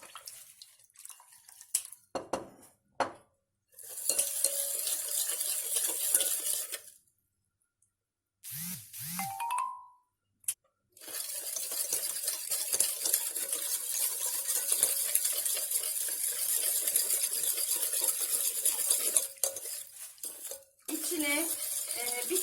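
Water sloshes and swirls in a bottle while salt dissolves for hot pepper pickle, in long bursts of close splashing and rattling broken by quiet gaps, with brief clinks in between.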